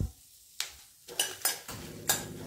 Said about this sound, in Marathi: सगळं साहित्य आता त्याला छान असं परतून घ्यायचं.